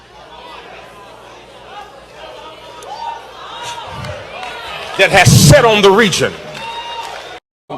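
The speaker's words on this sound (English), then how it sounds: "I want y'all to also listen to, like, the people in the crowd applauding" A church congregation at a pastor's sermon breaks into a loud burst of applause and calls lasting about a second, over the preacher's amplified voice, which keeps talking throughout.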